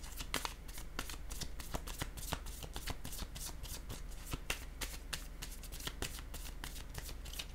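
Rapid crisp riffling and slapping of cards handled during a tarot-style card reading, close and quiet, with sharp flicks in a quick irregular rhythm.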